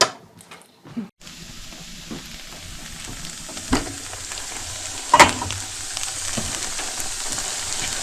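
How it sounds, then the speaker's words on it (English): Vegetables including celery frying in a pan for white rice, a steady soft sizzle starting after a quiet moment, with occasional stirring clinks from a plastic spoon and no talking. "I let my vegetables fry a bit."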